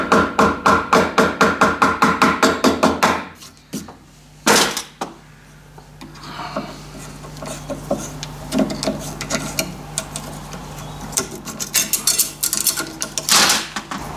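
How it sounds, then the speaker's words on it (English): A hammer taps down the rolled edge of sheet metal held in a vise while making a diesel foundry furnace burner: a fast, even run of sharp metallic strikes, a pause with a few scattered knocks, then another burst of rapid taps. "We're just going to go all the way around and tap it down"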